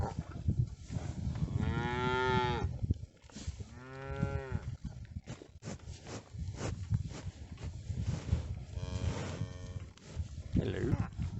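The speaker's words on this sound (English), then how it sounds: "I miss having cows around." Several long, loud cattle moos ring out close by on an open farm or field setting, with harmonic calls spaced through the clip over a breezy background.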